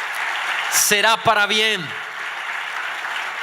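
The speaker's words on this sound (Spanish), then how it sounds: "Yo creo que podemos darle un mejor aplauso al Señor." A church congregation applauds during a sermon, with a steady wash of clapping hands in a large room while a voice speaks briefly over it.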